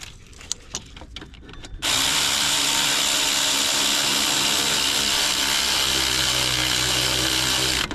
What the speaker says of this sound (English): Man, having an electric ratchet helps.